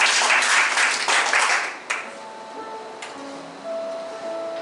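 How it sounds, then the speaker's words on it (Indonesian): Church congregation claps during a Sunday worship service, a moderate burst of applause that fades after about two seconds, leaving soft room tones and faint tones. "Beri tepuk tangan yang meriah buat Tuhan"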